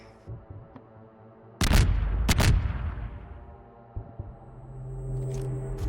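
Two or three sharp booming blasts ring out with long rumbling decay, followed by lower thuds and a steady mechanical hum, like game gunfire and explosions.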